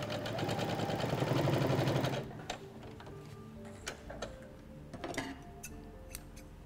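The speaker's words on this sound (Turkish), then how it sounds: "Hemen makine çekiyoruz." A sewing machine runs a straight stitch on linen with lace appliqué, a close, loud rapid mechanical rattle for about two seconds, then stops, leaving scattered faint clicks and handling taps.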